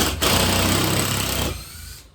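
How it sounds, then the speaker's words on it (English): Screw gun whirring loudly as it backs screws out of an SSL 6000 mixing console, a steady motor whine running about a second and a half before winding down and stopping. "Get a screw gun, pull some screws"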